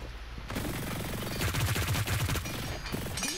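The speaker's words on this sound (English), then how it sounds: "Yeah, this Gatling gun right here" A Gatling gun spins up and fires in the online shooter Hyper Scape, a loud rapid rattling stream of shots that rises and holds for a couple of seconds before tapering.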